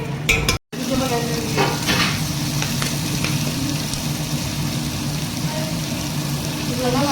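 Curry leaves and tomatoes fry in a pan with a loud, continuous sizzle, broken early by a brief cutout, while stirring scrapes sound close by.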